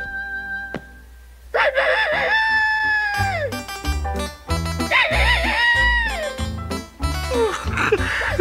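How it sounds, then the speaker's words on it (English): A recorded rooster crows loudly and close by, several long drawn-out calls in a row over a busy background of other sounds, in a 1988 cartoon. "a whole compact disc of rooster crows"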